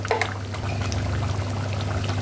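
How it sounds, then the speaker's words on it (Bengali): A spoonful of ghee goes into a small-potato curry in a korai, giving a brief liquid pour and soft sizzle over a steady low cooking hum, with no voices. "1 চামচ ঘি দিয়ে দিলাম"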